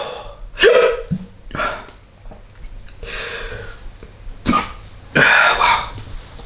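Hiccups and coughs with throat clearing from someone reacting to very hot chillies, loud and close, coming in several separate bursts with short gaps between them.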